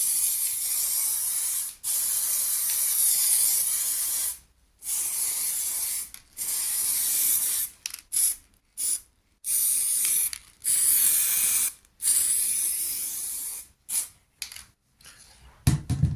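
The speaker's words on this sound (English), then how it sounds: "we have to do the layering spray" Layering spray on static grass for a model railway: a series of close hissing aerosol bursts of varying length, separated by brief silences, with more rapid short spurts near the end.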